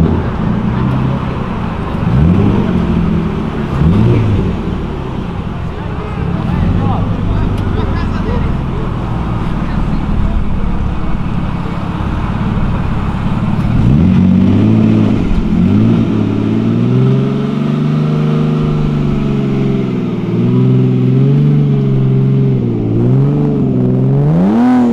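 A Nissan Silvia S15 accelerates along Avenida Europa, its engine revving in rising and falling pitch sweeps, growing louder and closer toward the end amid traffic noise, with people talking over it.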